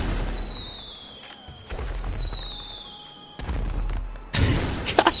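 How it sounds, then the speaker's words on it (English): Fireworks in Grand Theft Auto V: high whistling rockets streak and descend, followed by booming bursts and crackling pops, loud and close. "Gosh dang. So many fireworks."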